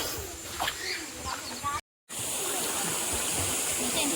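Close, steady rushing of river water, a constant broadband hiss that cuts out for a moment and then resumes, with faint chatter and higher sounds in the first half.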